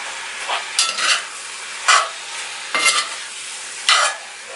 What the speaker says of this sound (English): So I'm going to let this fry a bit and I'll get back to you.